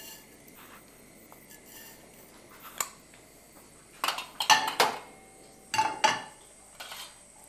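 Mustard seeds drop into a warm oiled pan held off the heat in a home kitchen, with a few sharp metallic clinks and rattles clustered toward the end over a quiet background.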